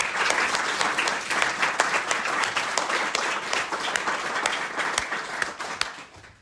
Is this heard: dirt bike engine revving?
no